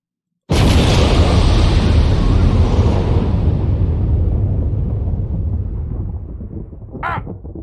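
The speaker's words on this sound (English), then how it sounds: "Where my goddamn explosion? Where my explosion at?" A loud explosion sound effect bursts in suddenly after a moment of silence, then rumbles and slowly decays over several seconds, with a short higher squawk near the end.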